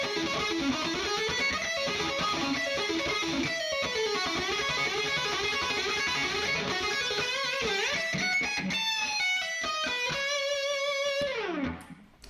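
Fast, shreddy electric guitar solo built on a driving 16th-note pattern, a dense run of quick picked notes that climbs and falls before a final descending slide, played close and alone.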